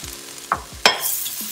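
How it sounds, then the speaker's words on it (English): Long beans with grated coconut being stir-fried in a claypot: a few distinct scraping stirs against the pot over a soft, steady sizzle, close and moderately loud, with no talking. "let's stir fry till the coconut turns golden brown"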